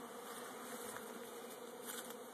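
A dense, steady hum of many honeybees buzzing close by around a hive being installed, droning continuously without pause.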